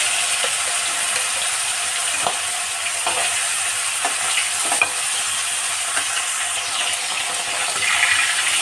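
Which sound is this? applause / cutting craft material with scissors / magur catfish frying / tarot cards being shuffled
magur catfish frying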